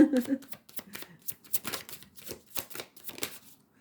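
Tarot cards being shuffled in quick, uneven riffles and slaps close by, with a voice talking over the shuffling.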